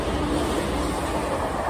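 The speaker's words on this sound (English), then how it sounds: "And now a train is passing." A train rumbling steadily past close by outside a ramen shop, a loud continuous roar of wheels on rails with no break.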